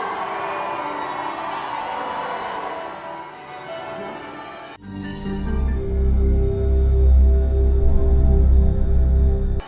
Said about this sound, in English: the carriage moved off to loud applause and great waves of cheering